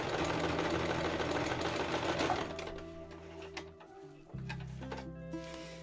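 A sewing machine runs up close, top stitching fabric for a round table placemat. Its fast mechanical whir and ticking stop briefly partway through, then start again at a lower, steadier hum.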